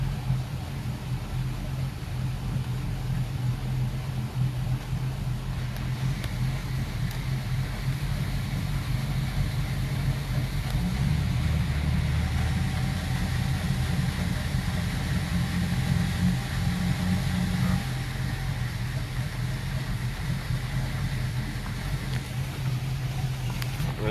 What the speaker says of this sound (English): Engine synchronizer tells me that the engines are running at the same RPM